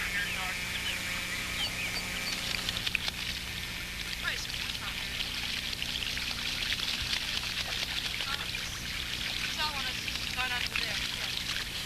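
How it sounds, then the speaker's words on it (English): Geese splash about in a backyard pool, with continuous close trickling and sloshing water that stays fairly even throughout. "their main interest is to get in the pool and have a quick splash"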